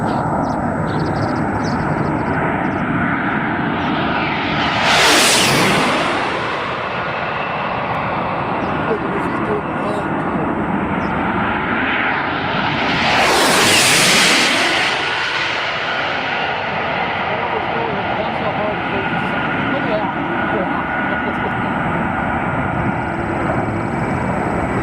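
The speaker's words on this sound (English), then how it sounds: "That's a big freaking airplane." A large airplane passes low overhead twice, each pass swelling from a distant roar to a loud, broad rush and fading away, with voices talking over the steady background noise.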